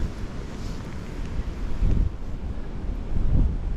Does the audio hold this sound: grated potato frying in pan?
no